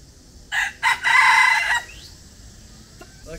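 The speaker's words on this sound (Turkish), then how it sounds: "burada da yine horoz var" A rooster crows nearby on Samui, a couple of short clucking bursts leading into one loud drawn-out crow, followed by quiet outdoor background.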